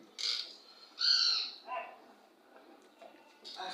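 Outdoor birds give several short, bright calls in bursts, one clear call near the start and a louder one about a second in, then fainter chirps trailing off into quiet background.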